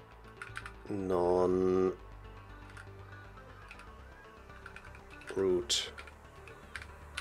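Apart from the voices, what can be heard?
typing slowly on a computer keyboard with Colemak layout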